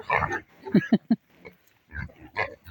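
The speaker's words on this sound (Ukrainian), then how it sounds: "А це наша вже он підросла, вже яка свинюка" Sows and young pigs on a farm give a quick run of short, close grunts in bursts, separated by brief pauses.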